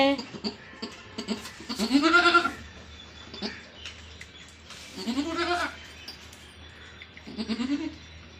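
Newborn goat kids bleat in three separate bursts, wavering cries close by, with quiet farmyard background between them.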